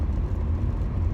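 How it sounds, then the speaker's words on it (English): A car rolls past on a quiet country road, a steady close low rumble and tyre roar filling the whole short stretch without any voices. "There's a car."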